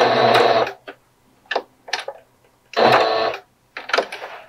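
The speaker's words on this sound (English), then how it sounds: "And then back stitch a little bit on either side." Sewing machine stitching a reusable fabric face mask, running in short back-and-forth bursts as it back stitches: two longer runs separated by brief clicking pulses, close and fairly loud, with no talking.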